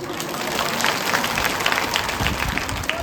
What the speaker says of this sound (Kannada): ಯಾಕೆ ಚಪ್ಪಾಳೆ ಕಟ್ಟಿದ್ದೇವೆ?